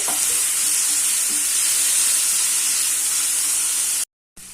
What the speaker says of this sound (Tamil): இப்போ நான் சின்ன சைஸ் தக்காளி ஒரு ஆறு தக்காளி கட் பண்ணி வச்சுருக்கேன் அதை சேர்த்துட்டு